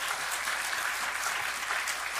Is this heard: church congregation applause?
yes